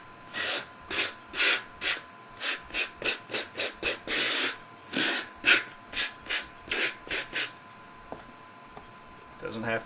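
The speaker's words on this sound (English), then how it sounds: "I'm going to give it a quick rub with the sandpaper to break that surface tension up." Sandpaper rubs rapidly back and forth on a model rocky hill terrain piece, about twenty short rasping strokes in a steady rhythm, close and fairly loud, then stopping near the end.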